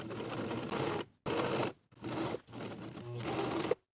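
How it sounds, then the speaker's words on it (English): Sewing machine stitching a pocket flap for elastic waist pants with a 1/2 inch seam allowance, running in three steady bursts separated by short pauses, close and fairly loud. "Then sew the flap in place with a 1/2 inch seam allowance."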